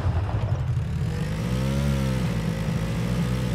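Car engine revving in the first-person racing game Hotdrop, a loud, buzzy, mid-pitched engine roar that climbs and dips in pitch as it revs, heard alone without talk.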